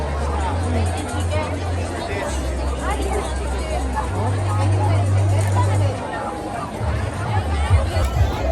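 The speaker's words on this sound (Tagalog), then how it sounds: "See the crowd, guys." Crowd of people gathered at a DU30 fun run, a steady murmur of many voices blending into a distant babble, with a nearer voice talking over it.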